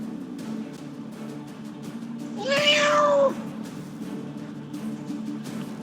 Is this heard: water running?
no